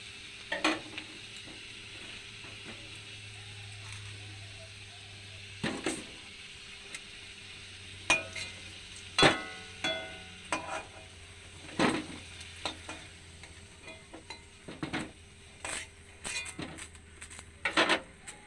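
Food fries in oil in a pan under a faint steady sizzle, broken by repeated scraping stirs that come in irregular bursts, louder and quicker toward the end.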